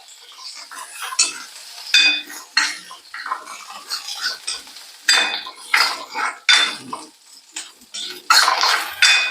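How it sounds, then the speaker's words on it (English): Garlic and curry leaves fry on a low-medium flame while being stirred in a pan, making a steady light sizzle with repeated scraping and clinking of a utensil against the pan, close and fairly loud. "Let this keep on frying this for some time"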